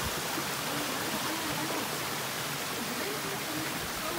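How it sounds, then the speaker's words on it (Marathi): A hidden waterfall in the Andharban jungle pours steadily, a dense broadband rush of falling water heard close and continuous with no voices. "it's like hidden waterfall in Andharban trek"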